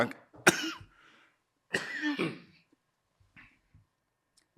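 A person coughs twice in harsh bursts, then clears the throat, with quiet breathing and faint sounds in between.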